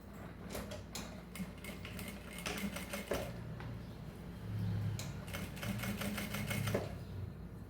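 A sewing machine runs a topstitch along the edge of a mesh fabric belt bag, a steady mechanical whir that surges and pauses in several short runs with clicks and rattles, close up and alone.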